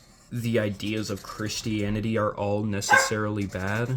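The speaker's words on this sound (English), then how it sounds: "Sorry about the dog barking." A dog barks in the background beneath a man's steady, continuous talking, the barks partly masked by his voice.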